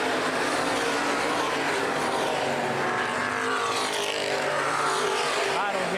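Open-wheel modified race cars battle side by side down the backstretch at Baer Field Speedway, a dense continuous engine roar with shifting pitch sweeps as cars pass, with a commentator talking over it.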